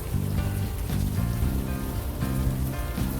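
Steady rain in the video game Unavowed, a continuous hiss running the whole length under a layered low musical score, with no talking.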